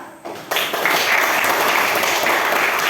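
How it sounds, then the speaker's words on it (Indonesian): A classroom group breaks into loud, sustained applause, starting abruptly after a brief pause and continuing steadily to the end. "Tepuk tangan."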